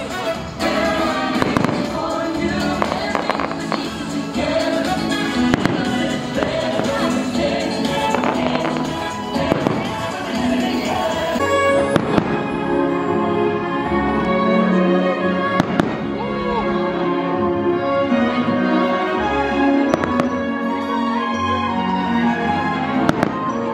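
Fireworks at Tokyo Disneyland on a windy night, bursting in a steady series of loud booms and crackles with crowd murmur and music underneath, continuing throughout.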